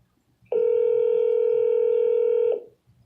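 A single long electronic telephone tone sounds for about two seconds, loud and steady, rising from near silence and then cutting off, as a call goes unanswered.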